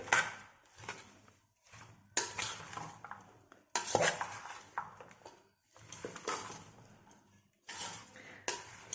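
A spoon stirs a mixed vegetable curry in a metal pot, making repeated scraping and clattering bursts separated by short pauses, up close and fairly soft.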